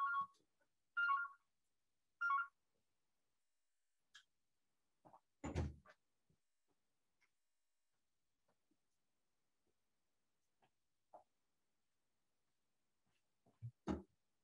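A phone rings nearby in short repeated bursts, three quick electronic trills at the start, followed by a loud thump and scattered faint knocks in a quiet room.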